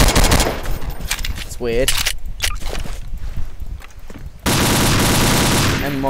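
Gunfire from a Beretta pistol in Garry's Mod, with sharp shots in a rapid burst followed by a denser volley, mixed with other game sounds and a brief spoken remark.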